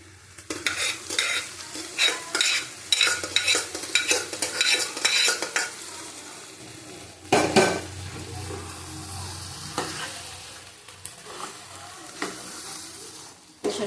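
Dal tipped into frying masala and stirred in a pan for a ghugni with egg and peas: loud, close scraping strokes in quick bursts over a steady sizzle, then a few sharp stirs and scrapes near the end.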